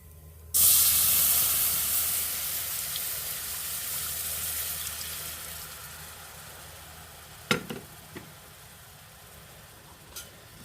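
Broth poured into a hot pan of browning beef tips bursts into a loud hiss and sizzle that slowly fades, with a few clinks of a utensil stirring near the end.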